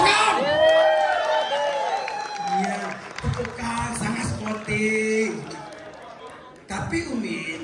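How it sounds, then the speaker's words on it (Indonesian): An audience at a staged emcee event breaks into applause mixed with cheers and whoops, with voices calling out over the clapping before it fades and briefly picks up again. "Tepuk tangan."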